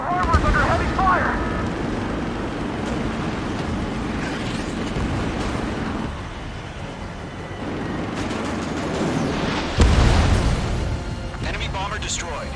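Deep rumbling explosions and battle noise fill the air as a harbor comes under heavy fire in the Ace Combat 7 video game, with a sharper blast near the end and radio voices talking throughout.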